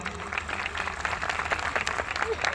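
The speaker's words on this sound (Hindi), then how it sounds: "मैं चाहता हूँ एक जोरदार तालियां गुरुदेव के लिए हो जाए।" Crowd applause for a guru at a business gathering, dense clapping at moderate volume throughout, with a voice speaking over it.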